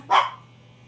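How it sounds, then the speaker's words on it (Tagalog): A single sharp, close dog bark rings out, the lone dog barking while the others eat, then fades quickly into quiet background hum. "Siya lang ang kahol ng kahol doon."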